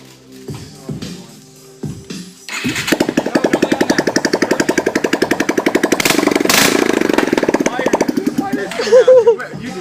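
A Yamaha TT-R 230 dirt bike engine, stripped down, sputters a few times and then catches, running loud and close with rapid rhythmic firing pulses. Voices talk briefly at the start.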